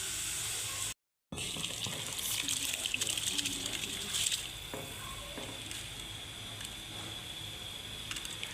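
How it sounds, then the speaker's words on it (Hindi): A pot of water comes to a boil for cooking rice for daal chawal, giving a steady close bubbling and hissing wash with a brief cut of silence near the start. "पानी हमारा बॉईल हो रहा है"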